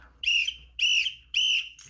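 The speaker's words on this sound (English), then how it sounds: "Now I'm going to blow the whistle 3 times." Three loud, sharp whistle blasts in a classroom, each held for about a third of a second with brief gaps between, and a fourth starting at the end; no talking.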